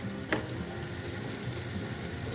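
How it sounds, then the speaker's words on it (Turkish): Soft, steady sizzle of tomatoes cooking in a frying pan, a low continuous crackle with one brief clink near the start and no talking. "Şimdi domatesimiz pişmeye başladı."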